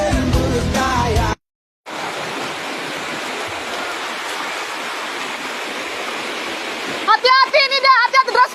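Fast, turbulent flood water from a flash flood in Indonesia, a loud continuous rushing roar with a brief gap, then a voice calling out over the torrent near the end.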